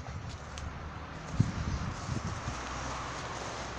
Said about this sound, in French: vous entendez un peu de vent, c'est normal